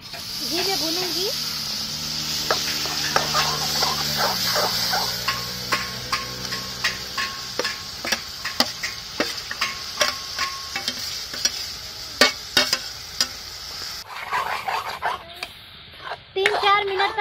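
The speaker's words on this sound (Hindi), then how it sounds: "मैं इसमें शरीफा डाल करके घी में भूनूंगी।" Custard apple fries in hot desi ghee in a kadhai, giving a steady hiss and sizzle under frequent sharp clacks of a spoon stirring against the pan. A voice is briefly heard at the start.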